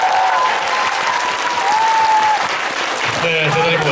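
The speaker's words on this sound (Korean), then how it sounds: "자 여러분 그 애장품 받으신 우리 팬분께 축하의 박수 부탁드릴게요" Fans at a fan meeting in Pyeongchang applaud in congratulation as one of them receives a singer's treasured keepsake, a sustained wash of crowd clapping with a voice talking over it.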